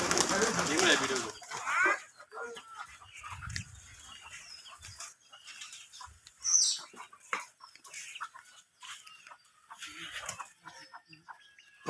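Domestic red and white pigeons coo and call in soft, scattered bursts close by, mixed with other birdlike clucks, while someone talks over them for much of the time.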